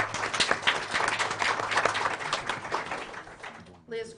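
A room at a board of education meeting breaks into clapping from a crowd, a dense, sustained round of applause that fades near the end as a voice begins.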